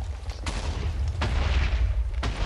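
Bedrock cannons in a video game fire three separate booming blasts, each a sharp crack over a constant low rumble, spaced roughly a second apart.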